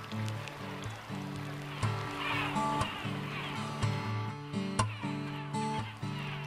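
Gulls on Gull Island, Rhode Island call again and again in harsh, overlapping, honking cries. Some calls are close and some farther off, over a steady outdoor wash of background sound.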